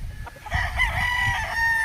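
A single two-year-old gamefowl rooster crows nearby, a short harsh cock-a-doodle-doo standing out clearly against quiet background rumble.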